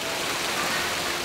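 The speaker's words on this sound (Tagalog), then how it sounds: "Biglang bumuhos ang malakas na ulan." Heavy rain pours down in a dense, steady roaring hiss, loud and unbroken, with no voices over it.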